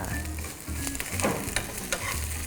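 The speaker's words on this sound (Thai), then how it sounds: "พอผัดไปเรื่อยๆนะครับ น้ำของเขาก็จะออกมา เราจะคั่วนะครับ จนเครื่องแกงเนี่ยมีกลิ่นหอม" Curry paste stir-fried in a hot pan, giving a steady close sizzle with scraping stirs throughout.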